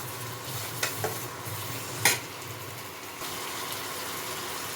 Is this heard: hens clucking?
no